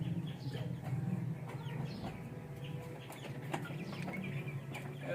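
Chickens cluck continuously at a poultry sale, with overlapping nearby clucks, brief wing flaps and a busy murmur of the market.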